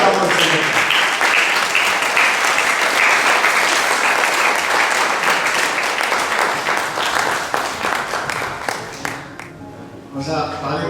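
A church congregation applauds the Lord in sustained, dense clapping that fills most of the span, with voices mixed in, before thinning out near the end.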